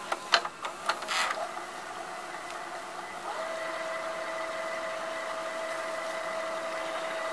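Funai-made XR-1000 VCR fast-forwarding a tape: a few clicks and clunks of the mechanism at the start, then a steady whirring hum with a thin high whine that holds to the end, close and moderately loud, with no talking.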